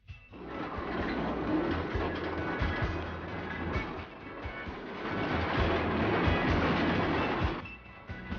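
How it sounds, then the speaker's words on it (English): A miniature railway train, a three-quarter replica of an early Queensland train, rumbles past with a steady rolling clatter and rhythmic wheel thumps, loud and close, fading slightly at the end. "visitors can take a ride on a miniature railway, which regularly makes trips around the perimeter"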